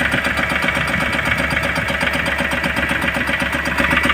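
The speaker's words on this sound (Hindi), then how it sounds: "इसके इंजन के साउंड में प्रॉब्लम है।" An Ashok Leyland Dost engine with a fault idles loudly and close, a dense, rough, continuous rumble with a fast, uneven pulsing beat suggesting a misfire.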